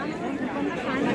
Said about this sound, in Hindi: बहुत ज़्यादा भीड़ है